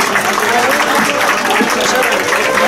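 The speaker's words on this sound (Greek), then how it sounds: "Το χειροκρότημά σας παρακαλώ." An audience claps throughout a Greek cultural association's pitta-cutting celebration with a dance troupe aboard an ANEK ferry, a dense, steady wash of applause at close to moderate distance with faint voices mixed in.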